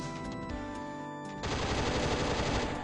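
Assault rifle fire in the shooter Struggle, faint at first over a steady tonal background hum, then a loud sustained automatic burst takes over for the last half.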